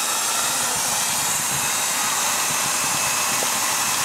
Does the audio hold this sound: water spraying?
no